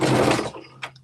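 A sewing machine runs a short burst of stitching through fabric up to the edge, loud and close, then stops abruptly, leaving a faint click afterward.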